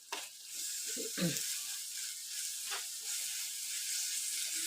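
A steady hiss of onions frying in a pan, with a brief low clatter near the start as something is stirred or moved.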